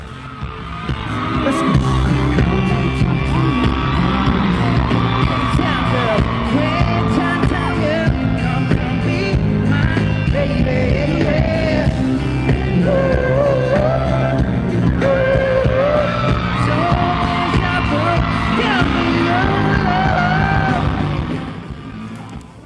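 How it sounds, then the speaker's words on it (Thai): A concert crowd at a show screams and cheers loudly and continuously through fast songs, the roar blending with the amplified music for nearly the whole stretch before cutting off. "ทุกคนเนี่ยก็พร้อมส่งเสียงกรี๊ดให้กำลังใจเขากันอย่างดังสนั่นลั่นฮอเลยครับ"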